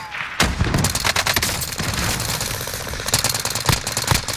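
Gunfire in a shooter video game on the Caldera map: rapid, loud bursts of automatic shots crack in quick succession over a constant rumbling din, with a few sharper single reports near the end.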